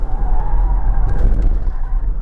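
A 2022 Kia EV6 electric car corners hard with tires skidding and scrubbing over a steady low rumble of road noise, loud and continuous for a couple of seconds with no talk.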